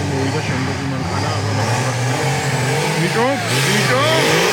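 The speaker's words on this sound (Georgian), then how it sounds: "მოვიდა შემდეგი მანქანა" An off-road car, likely a Jeep Wrangler, drives and revs through a course at an off-road festival competition, its engine rising and falling loudly under continuous crowd chatter and commentary.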